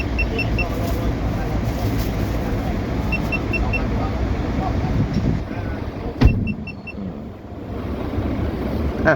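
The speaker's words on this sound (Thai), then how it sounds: "เดี๋ยวเราไปฟังเสียงฝาสูบแยก 5สูบยูโร5กันนะครับ เครื่องเกาลิตรคันนี้" Scania bus with a five-cylinder Euro 5 nine-litre engine, idling steadily with a deep low rumble from nearby, a brief sharp knock partway through.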